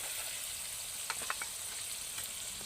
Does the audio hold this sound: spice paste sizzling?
yes